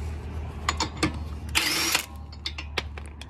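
An impact wrench zips off a CV axle nut on a car, a few short sharp bursts and one longer whirring run, close up and loud with brief clanks between.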